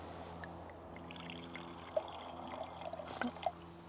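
Red wine poured from a bottle into a glass, a soft liquid trickle with a few small splashy drips and glugs, close and quiet, no talking.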